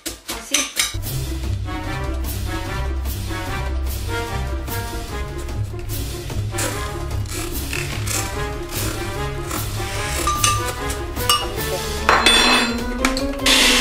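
Potatoes are chopped inside a blender jar for a spaghetti habanero dish, giving a fast, steady run of hard clacking and clinking taps of the blade against glass, loud and close, with no talk.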